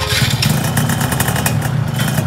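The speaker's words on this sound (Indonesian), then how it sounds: "sekarang gua mau coba bagaimana sih suaranya dan jalannya dari motor F1 GTR ini" A Yamaha F1ZR two-stroke motorcycle, Caltex edition, runs steadily up close with a loud, continuous buzzing engine note that holds throughout.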